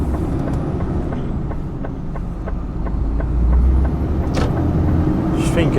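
A Class 1 HGV truck heavily loaded with animal feed rolls along the road in a steady, loud cab-interior drone of engine and tyre rumble, with faint clicks and rattles throughout.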